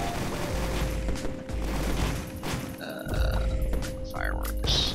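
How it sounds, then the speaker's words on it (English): Fireworks going off in the video game Risk of Rain: several crackling, booming bursts follow one another over a steady, dense game soundscape, fairly loud and continuous through the scene. "Fireworks."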